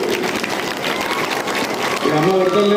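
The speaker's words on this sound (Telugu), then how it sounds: "ఒకసారి గట్టిగా వేదిక మీద ఉన్న వాళ్ళు ముందున్న కూడా గట్టిగా చప్పట్లతోటి" Audience applause at a Telangana government event marking the International Day Against Drug Abuse and Illicit Trafficking, a steady dense clapping that runs throughout, with a voice and tonal sound rising over it near the end.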